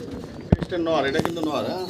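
A fancy pigeon with leg feathers coos close by, a soft rising-and-falling murmur running under a voice, with a sharp thump near the start.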